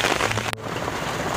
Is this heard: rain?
yes